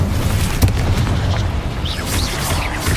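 Incendio fire spell cast in Hogwarts Legacy, a short burst of whooshing flame with a deep boom at the start and rushing crackle, followed by brief sweeping, chirping magical tones near the end.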